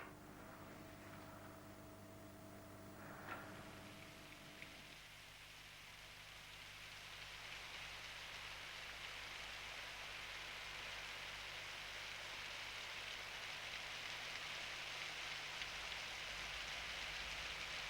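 Steady rain falling, a broad even hiss that swells and holds for many seconds, after a short stretch of low humming tones at the start.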